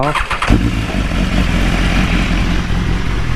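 A BMW S1000RR motorcycle engine cranks, catches and settles into a loud, steady idle right after an oil change, close by with no talking.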